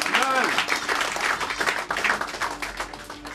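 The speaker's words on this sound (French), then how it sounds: "Est-ce qu'on peut acclamer le Seigneur très fort?" A church congregation at the inauguration of a new hall in London applauds and cheers for the Lord, with steady clapping and voices throughout, loud and close, continuous for the whole stretch.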